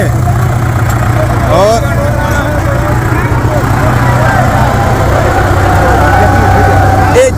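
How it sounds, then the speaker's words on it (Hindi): A Hindustan 4x4 tractor with a JCB-like build runs at a farmers' protest at the Haryana border, its engine giving a steady, loud rumble throughout while someone talks over it. "और देखिए अब ये ट्रैक्टर लाया गया है, क्योंकि पिछला जो है वो ट्रैक्टर वो खींच नहीं पाया था, लेकिन अब ये ट्रैक्टर आया है"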